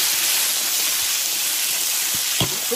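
Pork with fatty pieces rendering lard sizzles loudly in a hot iron wok, a dense, steady hiss close by with a few soft clinks of the spatula, no talking.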